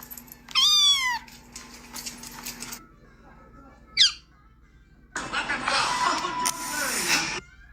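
A cat lets out a loud, sharp meow up close, then a shorter second meow, with a person speaking in between and noisy rustling at the end.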